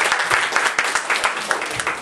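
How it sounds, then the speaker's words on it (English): A church congregation claps hands together, a dense burst of overlapping claps over about two seconds, close and fairly loud with a few sharper individual hits. "please clap your hands"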